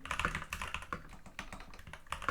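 Rapid clicking keystrokes on a computer keyboard, close and fairly loud, in quick irregular bursts typing a short message, with no voices.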